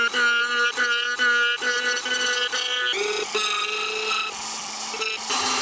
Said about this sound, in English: I'm just going super light at a high RPM right now, just to kind of smooth out some of those rougher grinds